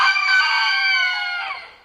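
A rooster crows loudly and close, a long drawn-out call that trails off at the end, with hens faintly clucking.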